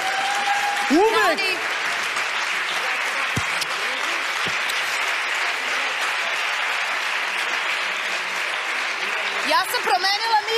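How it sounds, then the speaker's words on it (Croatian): Steady, loud applause from an audience for the performer Vuk Mob fills the whole stretch, with a voice calling out over the clapping near the start and again near the end. "Molim vas aplauz za Vuka Moba, molim vas!"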